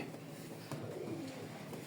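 A pair of racer pigeons coo softly in a brief, low murmur, rising once in a short warble amid steady background noise.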